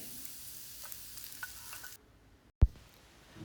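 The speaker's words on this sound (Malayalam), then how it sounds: "വെളിച്ചെണ്ണ ഒക്കെ ചൂടായി പാത്രത്തിൽ അത് ഇളക്കി വെച്ചത് ചേർക്കാം" Beaten egg mixture poured into hot coconut oil in a pan for a Kerala-style fried egg dish, a steady sizzle with stirring scrapes, then a sudden loud clatter and a renewed hiss, no talk.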